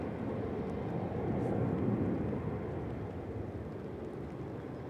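An Airbus A320 Classic airliner departs Manchester Airport, its broad, steady jet roar filling the air at moderate distance and swelling slightly mid-way before holding level, with no voices over it.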